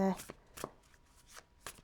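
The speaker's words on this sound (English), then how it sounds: "So I'm just going to give these a shuffle now for you lovelies" A deck of oracle cards is shuffled in several quick riffling bursts spaced apart, close and crisp, with a short tone at the start and no voices.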